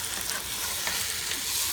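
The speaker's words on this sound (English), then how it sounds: "I'm going to take the roast, put it down in the pan, and we'll let it brown." A pot roast browns in a hot pan with a steady, dense sizzle and frying crackle that continues without a break.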